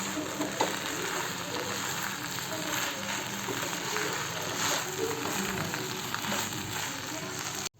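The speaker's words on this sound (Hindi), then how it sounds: "ब्रेड डाल के अच्छे से इसको मिक्स कर लेती हूँ धीमी आंच में" Brown bread pulao being stirred and mixed in a kadhai over a low flame, with a continuous, even sizzle and soft scraping throughout.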